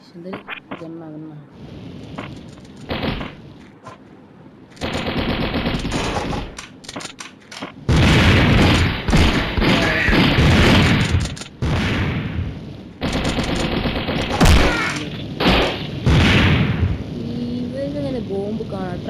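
Gunfire and bomb explosions in the Mini Militia video game make loud, dense bursts that repeat across the stretch, mixed with chatter from someone talking throughout.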